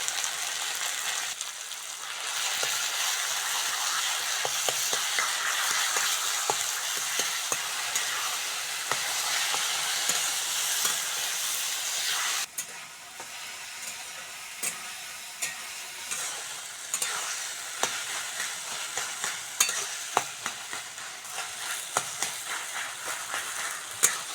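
Boiled taro leaves stirred in a pan with fried onion and green chilli, salt and turmeric, a continuous loud sizzle with steady scraping of a spatula, repeated clicks and scrapes throughout, no talking.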